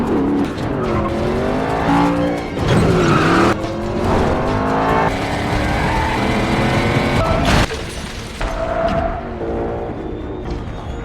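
Screeching tires and roaring engines from a car chase in a 2024 gangster action film, continuous and loud across the whole stretch, with sweeping squeals rising and falling over a dense layer of effects and score.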